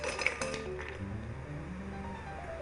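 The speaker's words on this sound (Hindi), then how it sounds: "अब मैं एक बर्तन में मैंने डाली है थोड़ी सी बर्फ़" Ice is dropped into a pot while making homemade mango Frooti, giving a few close, bright clinks and rattles in the first second before settling into quieter background tones.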